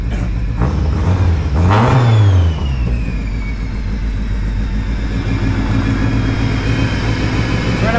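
An engine on E85 fuel after a cold start rises in one brief loud rev, then settles into a steady, rough, rumbling idle that runs on close by.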